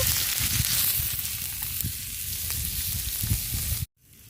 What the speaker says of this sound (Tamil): இது வந்துட்டு இப்போ லைட்டாக தாங்க நம்ம ஃப்ரை பண்ணுறோம்